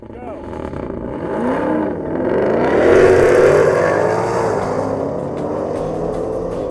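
A muscle car engine revs hard during a drag race pass, either a Shelby GT500, Hellcat or Camaro ZL1 1LE, with the roar swelling up and easing off over a few seconds, and voices talking over it.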